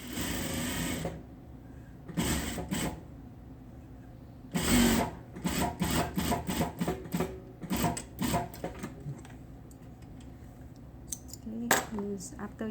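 A sewing machine stitches a seam on a homemade fabric mask in short repeated runs, fairly close, with pauses between bursts of stitching.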